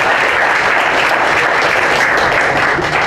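Steady, dense applause from an audience at a talk on alternatives to capitalism, loud and continuous throughout without any voices over it.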